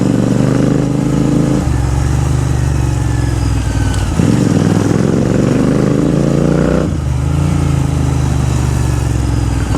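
A GT 650 motorcycle with a Red Rooster Performance upgrade rides along with a loud, close engine roar. The revs rise and drop with clear shifts in pitch as it accelerates, and no one talks.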